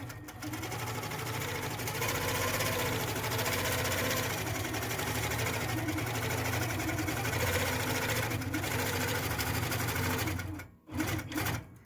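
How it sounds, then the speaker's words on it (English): A Handi Quilter Fusion sewing machine stitches fabric for a seam, running as a steady loud mechanical whir for about ten seconds, then stopping briefly and restarting for a short burst. "So I'm gonna stitch this down and just keep the 1/4 inch foot along the edge of your fabric."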